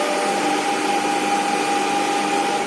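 A three-phase alternator set to its rated 1500 RPM during an open circuit test hums steadily and loudly, a constant whine with a sustained tone throughout and no talking.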